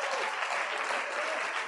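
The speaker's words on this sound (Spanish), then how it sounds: "Dale un aplauso a él en esta hora." A church congregation breaks into sustained applause during a sermon, a dense, even wash of many hands clapping at steady loudness with no pauses throughout.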